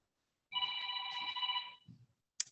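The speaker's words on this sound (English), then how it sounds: "I'm sorry, my phone, I thought I shut it off." A mobile phone rings during a candidates' debate, a loud multi-tone electronic ringtone lasting about a second before cutting off, followed by a brief rustle and a short chirp.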